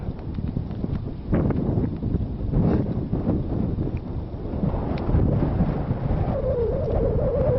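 Steady wind roars across open ice, loud and continuous with broadband rumble and gusting surges, close to the microphone with no talking.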